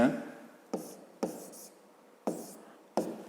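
Pen or chalk writing segment names during a fifth-grade math exercise, heard as five sharp, evenly spaced tapping strokes with brief scratchy tails in a quiet room.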